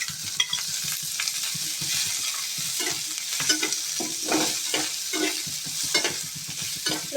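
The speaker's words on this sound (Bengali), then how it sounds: "তেলে ভালো করে সটে করে নেব।" Onion and chilli sauté in hot oil under steady stirring, a close, dense sizzle broken by repeated scraping and clinking strokes of a spatula against the pan, with no voices.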